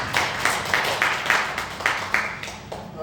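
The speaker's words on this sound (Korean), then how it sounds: "이 박수로 축하하고" Church congregation clapping in celebration, about ten distinct rhythmic claps at a steady pace, fairly close and moderately loud in a quiet room.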